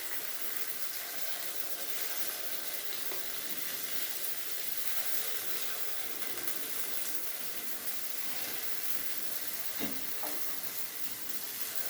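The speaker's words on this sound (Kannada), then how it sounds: "ಇವಾಗ ಈ ಥರ ಎಣ್ಣೆ ಹಾಕಿ ಎಲ್ಲ ಕಡೆಗೂ ಹಂಚಿಗೆ ಎಣ್ಣೆ ಹಾಕಿಬಿಟ್ಟು ಕಾದಿದೆ ಎಲ್ಲ" Oil sizzles across a hot tawa griddle, a steady, dense hiss that holds unbroken for the whole stretch, with a few faint knocks from the pan near the end.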